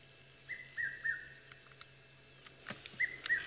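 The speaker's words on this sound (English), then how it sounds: "There you can hear a red-chested cuckoo calling." Red-chested cuckoo calling in the African bush, a few clear whistled notes in short bursts near the start and again near the end, fairly faint over quiet ambience.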